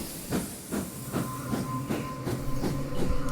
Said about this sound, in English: A steam train.